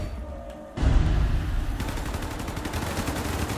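Rapid machine-gun fire from a toy soldiers defense video game breaks in after a short quiet start, then runs as a dense, loud stream of bursts with a fast rattling rhythm to the end.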